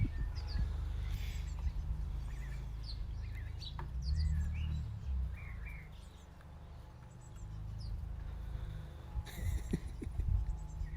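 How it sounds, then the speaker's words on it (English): A pet chicken makes soft, scattered chirps and peeps in a quiet indoor setting, faint and intermittent against a low background rumble. "can hear you chirping"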